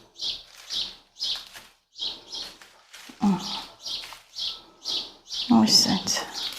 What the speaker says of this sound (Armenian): վայ այս ծիտիկները